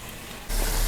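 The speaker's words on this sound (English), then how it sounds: "Now we're going to dump out the water, and we're going to add some more hot water to rinse it." Rinse water poured out of a bowl holding soaked yarn, a sudden loud splashing gush that starts halfway through after a quieter stretch.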